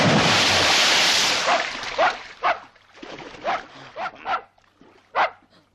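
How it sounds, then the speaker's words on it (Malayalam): A dog barks several times in a short, irregular series of sharp barks, starting after a loud noisy burst and standing fairly close and clear in a scene from the Malayalam comedy film Thilakkam. "പട്ടിയായിരുന്നു"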